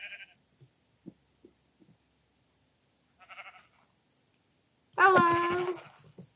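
Minecraft 1.16 sheep bleat while caving: after scattered faint clicks and a short muffled bleat midway, one loud, close, wavering bleat rings out near the end.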